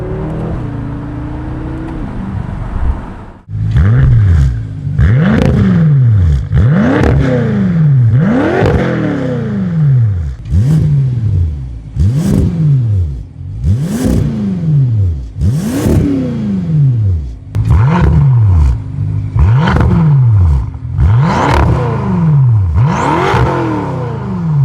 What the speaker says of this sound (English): that, everybody, was the ultimate sound experience for the BMW F10